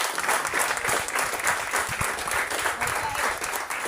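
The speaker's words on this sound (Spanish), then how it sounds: "aplauda al Señor por su buena palabra" A congregation claps during a Sunday church service, a lively but uneven burst of many hands with individual claps standing out, and voices and cheers mixed in underneath.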